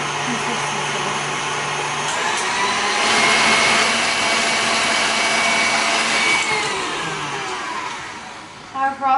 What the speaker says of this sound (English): use one of the whisking heads, and we're going to mix it until it's fluffier and more frosty consistency